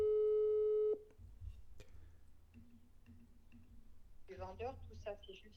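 An outgoing telephone sales call to a real estate agency opens with a steady electronic ringing tone that cuts off after about a second, followed by faint clicks and then a voice speaking on the line.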